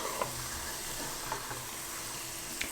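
Homemade Chinese chili oil sizzles steadily in a pan over the heat, a dense close crackle with a few small pops scattered through it and no voices.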